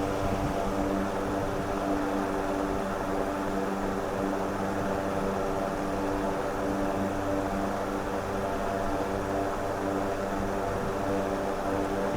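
A 90-watt BLDC cooler motor spins a fan blade at around 1,170 rpm with a steady, loud whirring hum and a buzzing tonal drone that holds constant throughout.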